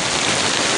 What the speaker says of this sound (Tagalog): Lakas mo yung ulan